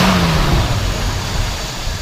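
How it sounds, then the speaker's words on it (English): A 1964 Buick Electra engine revs up close and loud, a deep roar that holds steady before easing slightly, with no talking. "Go ahead and rev it up a little bit."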